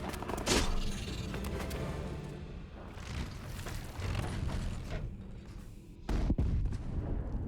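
Cannons firing in the strategy video game Age of Wonders 4, with booming blasts and clanking battle mechanisms in a dense, continuous barrage and a sharp, loud burst near the end.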